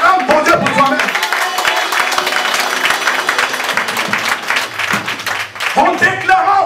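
A church congregation applauding and cheering during a sermon, with steady crowd clapping and noise continuing under a preacher's loud, excited voice.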